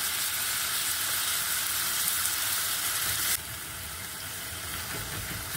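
Tomatoes fry in a hot pan for a chutney, giving a steady, close, hissing sizzle that drops a little in loudness partway through as the cooking carries on, with no talk.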